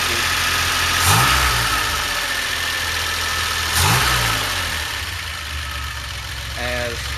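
A DeLorean engine idles steadily after a carburetor conversion with a Peugeot manifold, its throttle linkage bumped twice so the revs rise briefly and fall back, then a smaller blip near the end; close and loud, no clear talk.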